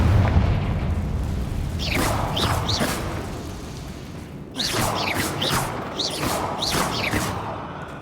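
Fiery blasts of the Confringo spell in Hogwarts Legacy burst repeatedly in quick clusters, sharp cracking pops over a low rumbling bed, with a brief lull before another volley of explosions.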